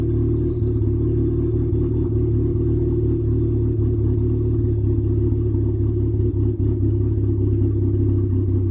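Mitsubishi Eclipse engine with an AEM FI/C tune, held at a steady elevated idle around 2000 RPM, a close, even low rumble with faint clatter and no talking.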